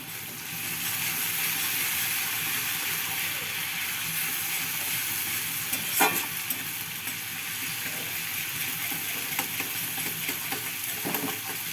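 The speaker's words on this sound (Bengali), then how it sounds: "রসুনটা আগে কি বলতো একটু লাল লাল করে ভেজে নিতে হবে" Garlic frying in a pan while making an egg curry, a steady close sizzle with faint stirring and scraping clicks, the crackle holding level throughout with no voices over it.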